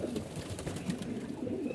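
Soft, low coos of female pigeons murmur steadily against a dull background hum, with no voices present.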